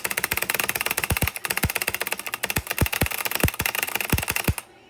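Rapid clacking of loud mechanical switches on a Black Shark gaming keyboard, a dense close-up flurry of keystrokes with heavier thumps mixed in, running steadily for several seconds before stopping abruptly.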